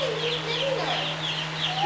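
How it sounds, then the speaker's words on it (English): Chickens on a chicken farm cluck and peep continuously at close range, with overlapping chirps and clucks over a steady low electrical hum. "I want to chase the chicken."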